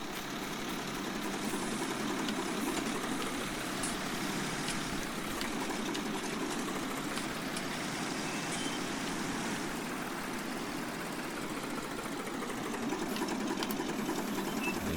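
A tractor engine in Farming Simulator 19 runs continuously at a steady idle-like drone with a fine rattling texture, moderately loud and unchanging, with no talk over it.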